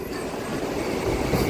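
The LTT Express pulling out of Kaikaluru station gives a short burst of close, steady rolling rumble from its wheels and carriages.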